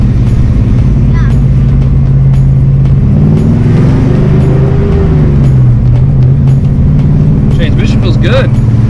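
A 1986 Mustang GT with a replaced T5 manual transmission pulls away in first gear, its loud engine drone rising and falling in pitch close inside the car, with a person talking over it.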